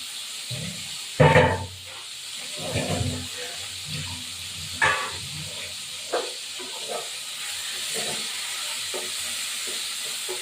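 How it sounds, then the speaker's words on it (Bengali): Prawns frying in a pan with splashed water, a steady broadband sizzle and hiss running throughout, broken by a few louder spitting bursts near the start and middle, fairly close and moderately loud. "এবার চিংড়ি মাছটা ভাজা বসিয়ে দেবো"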